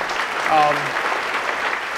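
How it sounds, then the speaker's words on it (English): Audience applause at the SlossTech 2017 tech conference in Birmingham, Alabama, a steady wash of crowd clapping from a large room, with a faint voice briefly over it. "go ahead and give yourself an applause for being here in Birmingham, Alabama."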